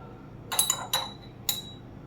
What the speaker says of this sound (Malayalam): ഇനി ഫൈനലി നമുക്ക് ഡ്രൈ ഫ്രൂട്ട്സ് ഇട്ട് കൊടുക്കാം.